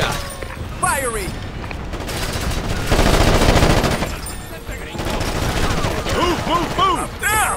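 Gunfire in the Ghost Recon Advanced Warfighter video game: bursts of rapid shots and heavy booms swell in the middle, with radio-style voices talking throughout.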